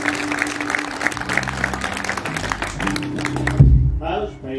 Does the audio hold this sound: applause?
yes